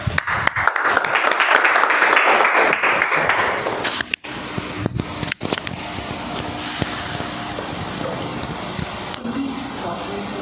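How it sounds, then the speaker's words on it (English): A round of applause for two speakers at a Toastmasters-style Diwali meeting, with clapping for the first few seconds before it gives way to a noisy, crackly room tone with scattered clicks. "A big round of applause to both the speakers"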